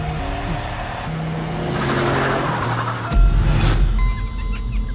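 A car roars away at speed during a chase, its engine loud and close and surging as it accelerates, with a heavy rumble building toward the end amid background music.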